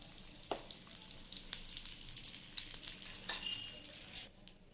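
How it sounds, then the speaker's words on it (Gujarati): Asafoetida hitting hot oil in a kadai sets off a steady, bright sizzle with sharp crackles and spits. It carries on for several seconds, then drops off abruptly at the end, close and unaccompanied by speech. "હવે એમાં હિંગ એડ કરીશું."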